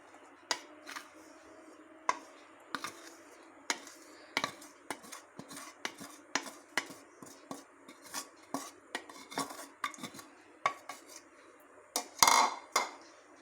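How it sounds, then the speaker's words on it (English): A spoon clatters against a bowl as dry and wet ingredients for oat cookies are stirred into a crumbly dough, giving irregular close knocks and scrapes spread over several seconds in a quiet room. "We're going to mix these two things nicely together until it be like a, dough."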